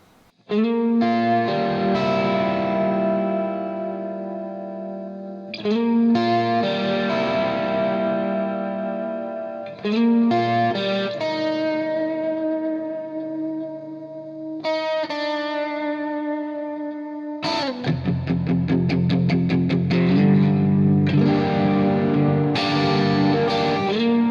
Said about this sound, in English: We got a compressor, a chorus, and a reverb engaged.